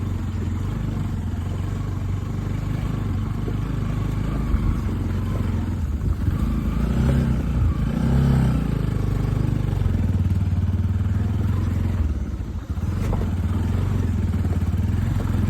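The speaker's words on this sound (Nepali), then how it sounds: "दाइको बाइक अड्केको अवस्था।" A motorcycle stuck on a slippery, dangerous mountain trail near Gufa Pokhari, Nepal, drones and labours continuously at close range, with clattering and rattling over a steady low rumble.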